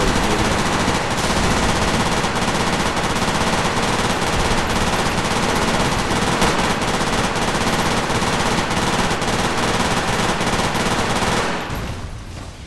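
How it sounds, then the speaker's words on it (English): Sustained automatic gunfire in the video game Fallout New Vegas, a loud dense rattle of shots running continuously before cutting off and fading near the end, with no talk. "what if I just shoot a David clone?"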